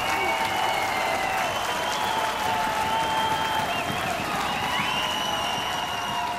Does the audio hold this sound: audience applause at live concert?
yes